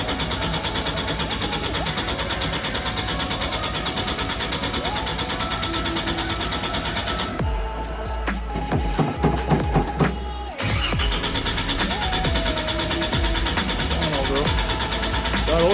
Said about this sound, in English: Starter sounds good.